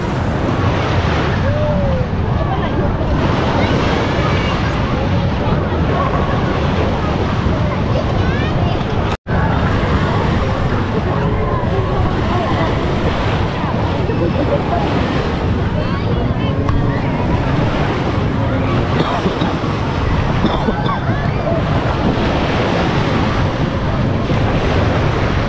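Surf rolling onto a black sand beach at Hinigaran, Negros Occidental, a loud continuous wash of waves mixed with heavy wind buffeting the microphone, broken only by a brief dropout, with distant crowd noise behind.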